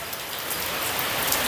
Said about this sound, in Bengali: প্রিয় খামারে আজ বৃষ্টির দিন